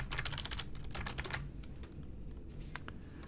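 Quick keystrokes clatter on a computer keyboard while entering a formula in Excel: a dense flurry of close taps, then a few sparse, lighter presses.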